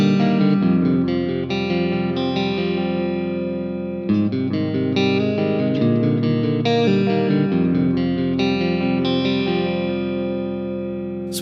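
An electric guitar on its neck pickup, with reverb and delay from a pedal board, plays sustained chords and melodic notes with a wet, spacious effect tail, each phrase ringing out and decaying, no voices.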